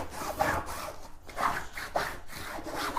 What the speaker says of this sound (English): I'm also going to take and squeegee down from the back side.